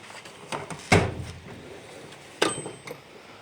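A metal tool chest drawer is pulled open, giving a sharp slide-and-clunk, followed later by a second bang of metal, with light clinks between in a quiet workshop.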